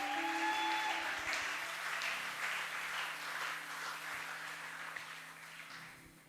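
A congregation at a fasting and prayer service bursts into applause that starts strong and slowly tapers off, with faint sustained tones lingering beneath the clapping.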